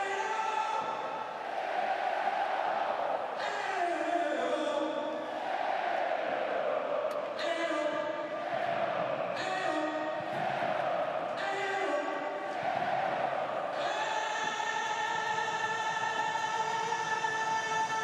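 An arena crowd at an ice hockey world championship game between France and Slovakia in Košice cheers Slovakia's 3-0 lead, a sustained roar with rhythmic chanting swells, loud and continuous, with a commentator talking over it.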